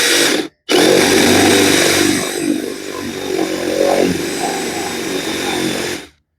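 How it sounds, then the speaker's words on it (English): A power drill with a spade bit whirs steadily for about six seconds after a brief pause, its motor loud and close with slight changes in pitch as it bores into deck wood. "I'll demonstrate that now by drilling the first hole."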